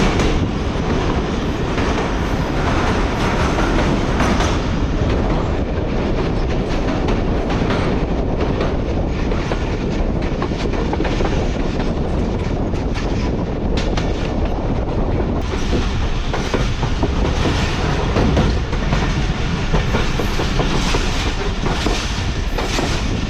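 Badar Express carriage riding just behind the locomotive between Lahore and Faisalabad: a steady, loud rumble and rattle of wheels on track throughout, with rhythmic clatter and no voices.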